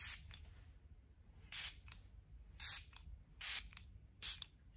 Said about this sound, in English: I use this Revolution Super Fix Super Hold Misting Spray